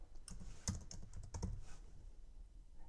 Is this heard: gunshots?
no